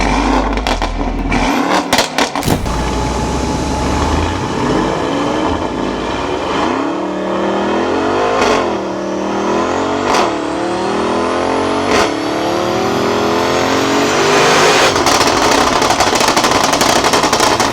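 A stage 3 tuned Mercedes-AMG GT63 S making over 900 hp revs hard on a dyno, loud and close, with repeated rising engine sweeps, sharp bursts and crackles, then a long sustained climb toward the end.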